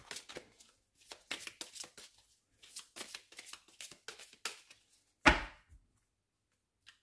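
Tarot oracle cards are shuffled and cut by hand, producing quick bursts of papery riffling and slapping in irregular clusters, close and fairly quiet, ending with one sharper knock.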